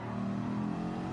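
A car engine in Gran Turismo 7 revs hard and steadily after a missed gear shift, a loud, continuous mid-pitched roar held for about a second with no talk.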